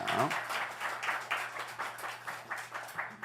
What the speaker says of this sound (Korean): 우리 오실 때 박수로 환영하도록 하겠습니다.